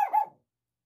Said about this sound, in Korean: 저희 강아지 죄송합니다. 아니 왜 저렇게 짖는지 모르겠어요.